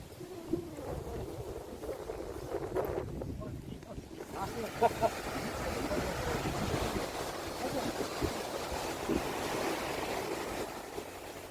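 Ocean waves roll and wash near Saeyeongyo Bridge in Seogwipo, a continuous surf roar mixed with gusty wind buffeting the microphone, with people talking faintly at times.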